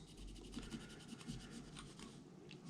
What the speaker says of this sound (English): Let me just give this little rotor a clean as well.